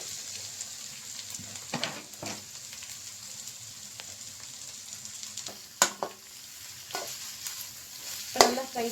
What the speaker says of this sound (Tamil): ஆனியன், கேப்சிகம், கேபேஜ் இது மூணையும் நம்ம போட்டு வடைச்சட்டியில் போட்டு சும்மா நல்லா ஃப்ரை பண்ணணும்.